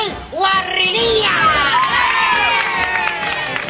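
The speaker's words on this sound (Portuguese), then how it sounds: "nós vamos recebê-lo com muitas palmas." A TV studio audience in Brazil cheers, shouts and claps as two famous clowns make their entrance at a 50th-anniversary television celebration. Loud, continuous crowd noise fills the room, with children's shouts and whoops on top.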